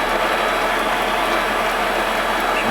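An MX 210V Chinese mini lathe runs steadily close by, a continuous mechanical whir with a faint gear-like rattle and no pauses for the whole stretch.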